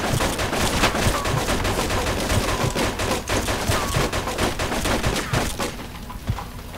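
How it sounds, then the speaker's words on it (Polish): Gunfire in the Mafia 2 video game, a loud, dense burst of rapid automatic shots crackling continuously, then tapering off toward the end. "Jezus, strzelają."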